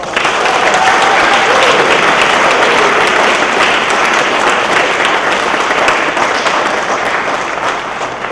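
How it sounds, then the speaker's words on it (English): Sustained, dense applause from an audience at a university Asian American Studies student awards ceremony, loud and even throughout with no break. "Let's have a collective round of applause."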